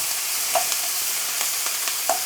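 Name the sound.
tofu frying with courgettes in a pan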